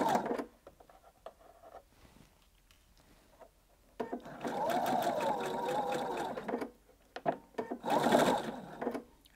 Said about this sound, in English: back tacking at the end to the far corner where the pin head is